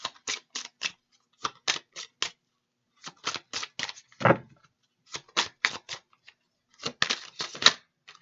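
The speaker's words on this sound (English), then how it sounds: "Let's get one more shuffle." Tarot cards being shuffled by hand in quick bursts of crisp riffling snaps, separated by short silent gaps, close and clear with no talking.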